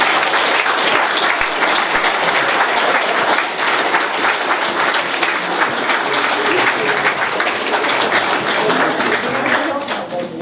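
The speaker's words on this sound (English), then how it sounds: "Let's give him another round of applause." A crowd at a tribute event for Isiah Robinson gives a sustained round of applause, dense clapping filling the room for about ten seconds before starting to thin at the end.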